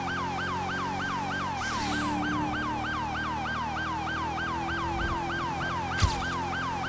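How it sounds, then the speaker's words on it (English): A police car siren wails in a roleplay video game, a loud, fast, repeating yelp cycling evenly throughout over a low engine hum, with a brief thump near the end. "I'm running full sirens and everything"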